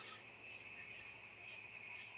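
Night crickets and tree frogs chirping in a steady high-pitched outdoor chorus, faint and continuous, with no talk.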